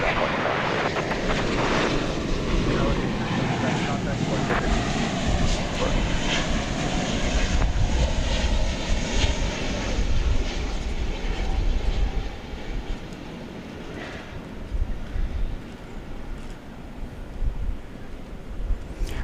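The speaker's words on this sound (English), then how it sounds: "That's the flight coming in from Venice, 777-200." A Boeing 777-200 airliner arriving from Venice roars steadily at DFW Airport, a loud broadband engine rush that holds for the whole stretch and eases slightly near the end.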